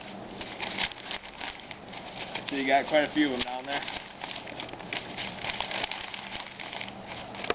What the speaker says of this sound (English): You want to crumple them up, a little ball,